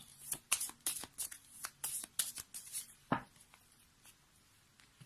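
A deck of tarot cards is handled and cut, giving a run of close, quick riffling flicks and slaps, then a lone louder snap and quieter shuffling near the end.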